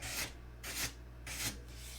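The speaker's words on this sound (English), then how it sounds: "We're not sanding straight" Hand sanding with a rolling motion around the tips, three broad rasping strokes in an even rhythm, close and fairly quiet, with no voices.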